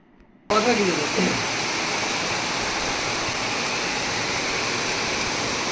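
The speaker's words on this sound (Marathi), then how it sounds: "मुसळधार पाऊस चालू आहे" Heavy monsoon rain pours outside a house under construction, seen from an upper balcony. After a brief quiet moment it becomes a sudden, dense, steady roar that stays constant to the end.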